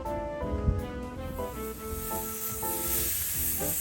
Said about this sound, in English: Come and look at this sizzle.